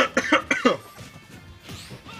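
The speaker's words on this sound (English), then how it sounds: "can we all stop coughing?" Several sharp coughs in quick succession from people on a livestream of a fighting-game match, loud and close at first, then trailing into quieter background noise.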